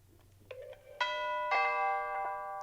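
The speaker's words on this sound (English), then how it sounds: "Within less than a second, the chime went." An Arlo Audio Doorbell chime rings right after its button is pressed, giving a few clear, close bell-like tones with long ringing overtones that overlap and slowly fade.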